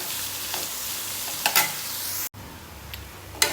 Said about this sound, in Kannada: ಈಗ ಇದು ಆಲ್ಮೋಸ್ಟ್ ಫ್ರೈ ಆಯಿತು